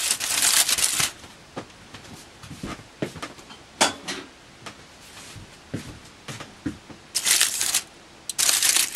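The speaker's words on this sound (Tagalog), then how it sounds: "Lagyan natin ng aluminum foil." Aluminum foil crinkled and pressed over a large baking pan for a water-bath cheesecake, giving bursts of bright crackling and rustling with scattered taps and handling noises, loudest at the start and end.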